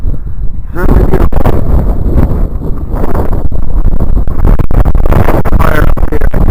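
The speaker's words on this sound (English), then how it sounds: "Pretty windy up here." Strong wind buffets the microphone on an open mountain top in late January, a loud, continuous roaring rumble with gusty surges that swell after a quieter opening moment.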